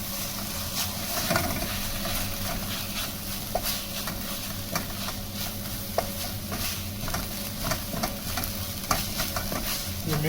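Macaroni mixed with ketchup stirred steadily in a pan, giving continuous scraping and sizzling with frequent light clicks of the utensil against the pan, fairly loud and close, no voices.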